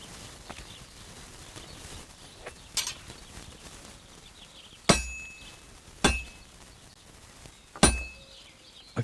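Hammer blows on hot metal at an anvil in a medieval forge, Kingdom Come: Deliverance II: three sharp, ringing clanks a second or so apart stand out over a low background, with a few fainter taps before them.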